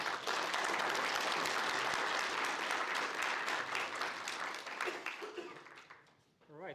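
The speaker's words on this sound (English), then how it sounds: "Give a round of applause." An audience gives a sustained round of applause, a dense wash of clapping that fades after about five seconds as a voice comes in.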